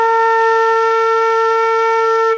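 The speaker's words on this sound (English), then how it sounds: "That note's called A." A flute sustains a clear, steady A for a little over two seconds, played by itself at close range and trailing off slightly at the end.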